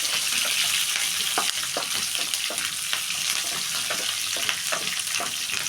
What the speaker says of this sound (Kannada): 1 ಈರುಳ್ಳಿ, ಹಸಿಮೆಣಸಿನ್ಕಾಯಿ ಹಾಕಿಬಿಟ್ಟು ಸ್ವಲ್ಪ ಇದನ್ನು ರೋಸ್ಟ್ ಮಾಡಿ.